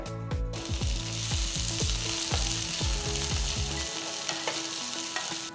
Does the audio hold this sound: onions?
yes